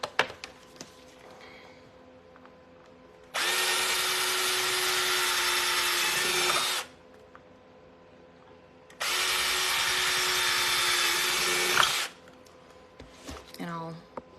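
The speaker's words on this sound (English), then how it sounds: "I think I'm going to drill right here" Two long, loud bursts of a power drill boring holes close by for a sugar glider trash-can toy, each lasting a few seconds with quiet pauses between, and brief talking in the gaps.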